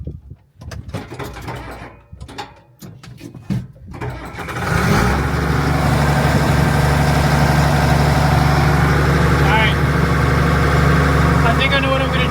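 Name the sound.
Case 2294 tractor engine running, stalling when clutch pressed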